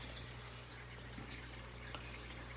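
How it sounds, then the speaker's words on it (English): Small waterfall trickling in a terrarium among rocks and driftwood, a faint, steady splash and gush of running water with a low pump-like hum underneath. "You can see we made them a nice little waterfall over here."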